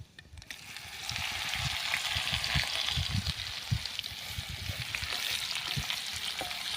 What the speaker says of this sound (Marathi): तेल छान गरम झालं आहे यामध्ये आपण जिरी मोहरी टाकली पत्ता आणि आपण ही जी कारली आहेत ती टाकणार आहोत